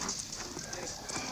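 Horse hooves clip-clop steadily as cavalry mounts are led to the stable at a frontier fort, with a voice speaking over the hoofbeats.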